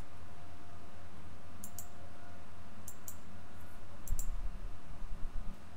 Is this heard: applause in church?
no